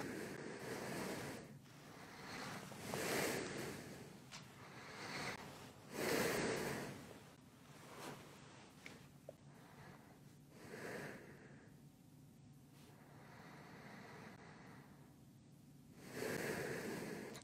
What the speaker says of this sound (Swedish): Du andas långa djupa andetag.